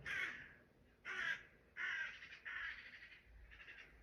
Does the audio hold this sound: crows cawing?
yes